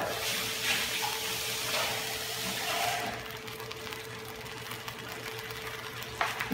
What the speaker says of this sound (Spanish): A la lata que está aquí, yo le voy a poner un poquito de agua y se lo voy a poner ahí dentro.